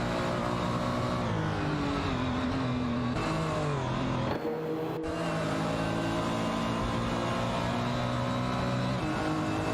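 Race cars in an AI racing video game, including a Porsche 928 GTS and a McLaren F1, engines whining and shifting in overlapping tones, with a brief dip and then continuous loud racing noise.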